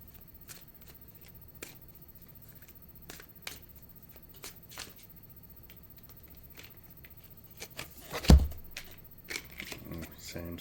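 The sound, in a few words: shuffling a deck of cards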